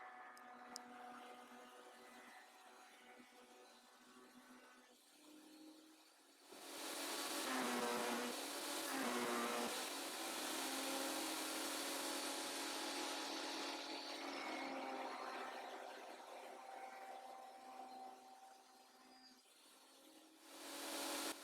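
Woodworking planer fitted with homemade push pads runs as a workpiece is fed, a low idle hum rising into a loud, broad roaring cut for several seconds, then easing, with another pass starting near the end.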